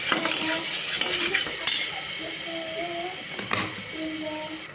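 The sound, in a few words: stirring potatoes, peas, salt and garam masala in a pan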